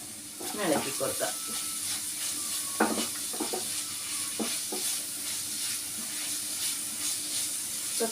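Chopped vegetables with ginger fry in a hot pan with a steady sizzling hiss, broken by scraping stirs near the start and several more soft stirring strokes throughout.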